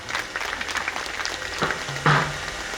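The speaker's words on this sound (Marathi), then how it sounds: "त्यांना त्यांच्यासाठी टाळ्या वाजवा जोरात" A crowd applauds the tasha drum players at a village fair gathering, with a short burst of clapping that rises briefly near the end under a little background noise.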